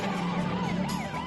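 Wailing police car siren from a Dukes of Hazzard episode, rising and falling tones over a low steady hum, loud and close.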